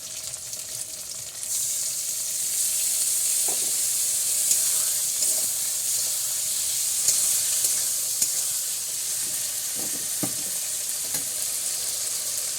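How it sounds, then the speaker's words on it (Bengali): Jackfruit curry with paneer fries in a pan, a steady bright sizzle running throughout with occasional scraping stirs of the spoon, close and alone without talk. "লবণ করে কষিয়ে নিই"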